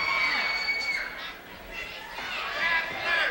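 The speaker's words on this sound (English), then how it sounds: "As soon as he walks in, those people start cheering" Wrestling arena crowd cheering for Paul Orndorff at a 1991 UWF event, a broad wash of shouting and chatter that swells and dips, with a commentator talking over it.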